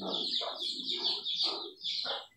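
Chickens cluck in a quick series of close, chattering calls, with a brief pause before the last one.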